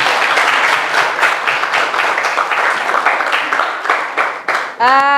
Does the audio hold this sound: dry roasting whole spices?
no